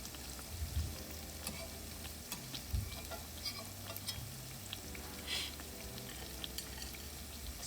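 Jamaican festival dumplings frying in oil in a pot as they are turned, a steady close sizzle with occasional soft scrapes and knocks from the turning, and no talking.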